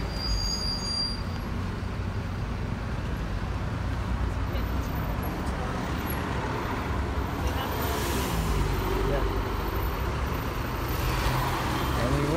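Road traffic sits in a jam in Stratford-upon-Avon with buses and coaches: a continuous low rumble of idling engines, moderately distant, with occasional faint higher squeals and hiss.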